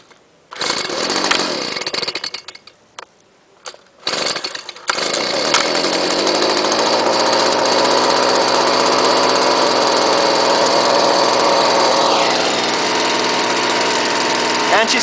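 A small gas engine on a trimmer or blower, choked and primed three times, sputters through a few short pulls before catching and running at a loud, steady high-pitched drone.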